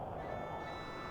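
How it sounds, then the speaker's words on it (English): An alarm in the video game The Operative: No One Lives Forever sounds as a continuous electronic beeping tone, steady and moderately quiet throughout. "What I wouldn't give for some bananas to put in my ears so I don't have to listen to that dumbass alarm."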